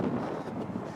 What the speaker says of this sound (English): And that's some pretty strong wind right there.